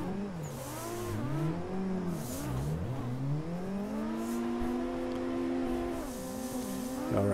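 A drifting car on a playground course, its engine revving and swooping in pitch through long sustained slides, with tire squeal underneath, steady and close with no talking.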